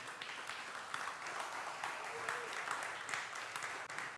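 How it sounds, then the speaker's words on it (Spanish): An evening church congregation applauds steadily, a dense wash of many hands clapping at even volume throughout, with a faint voice briefly audible underneath. "Aplauda su nombre esta noche, por favor."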